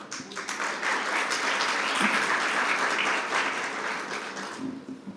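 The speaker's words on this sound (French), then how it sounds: "je vous demande d'applaudir l'INDH tout court" Sustained audience applause for Morocco's INDH national human development initiative at a youth entrepreneurs' event, a steady dense wash of clapping that holds for the full span and tapers slightly at the end.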